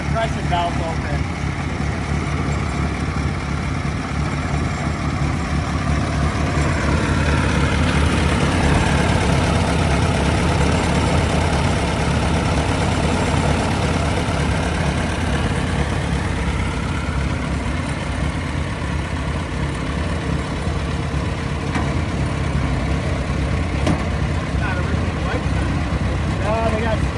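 A 1914 Princess car engine idles with one compression valve open, giving a steady low rumble with a faint sucking pulse, heard outdoors at a busy car event with loud voices and crowd noise throughout.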